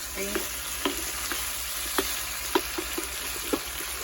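Shrimp curry sizzles steadily in a pan inside a semi truck cab while a spoon scrapes and taps at irregular intervals, a close, continuous frying hiss punctuated by light stirring clicks.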